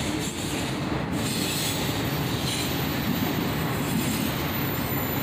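A long CSX auto rack freight train rolls past close by, a loud, unbroken rumble of wheels on rail with a faint squeal riding over the steady roar.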